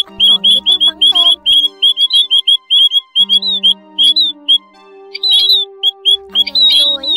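Repeated whistled calls of the white-headed Áo Già bird, a trapping lure recording, ring out loud and close in a lively series of short chirps and squawky notes, with brief pauses between bursts and no talking.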